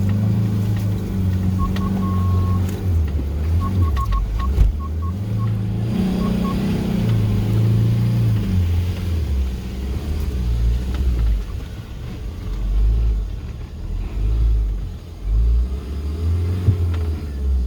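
Mahindra Marazzo engine revving while off-roading in a jungle: a loud, close, continuous low rumble whose revs rise and fall throughout, with a few brief chirping beeps early on.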